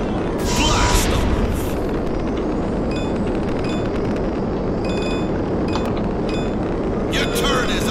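Spaceship launch blast-off in the video game Awesomenauts, a sustained loud rumbling roar throughout with metallic chimes and clinks scattered over it.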